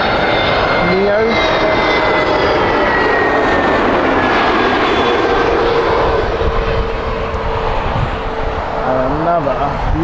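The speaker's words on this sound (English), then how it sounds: "Another beautiful takeoff in the background, which we will just focus on." A Boeing 787 jet airliner takes off at Heathrow Airport, giving a steady, loud broadband roar that lasts the whole stretch, with voices talking over it.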